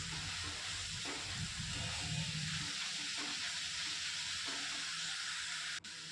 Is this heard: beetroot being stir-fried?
yes